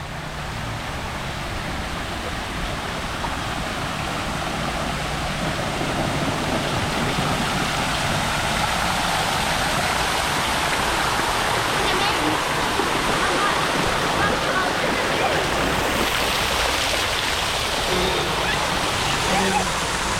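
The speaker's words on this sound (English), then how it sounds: "Teddy wants to brave the big waterfall." A big waterfall at a resort lazy river pool pours with a loud, continuous roaring rush of water close by for the full length, steady and unbroken, with faint voices beneath it.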